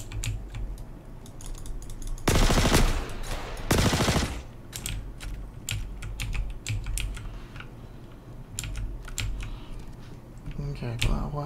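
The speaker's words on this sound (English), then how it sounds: "You're shooting at me." Rapid gunfire crackles in a Star Citizen firefight during a bounty hunt, with two dense loud bursts early and sporadic sharp shots after, mixed with keyboard clatter and someone talking.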